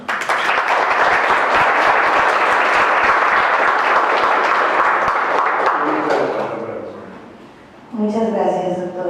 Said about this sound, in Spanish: Recibamos a la doctora con un caluroso aplauso.